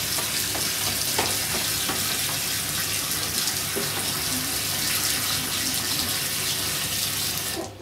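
A homebrew beer mixture is stirred in a fermenting bucket, giving continuous close sloshing and swirling liquid noise that stays loud and even throughout before stopping abruptly at the end.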